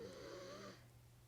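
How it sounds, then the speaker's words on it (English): A dog snoring softly nearby, a single faint, raspy breath that fades out after a moment. "I apologize for you hearing my dog snore"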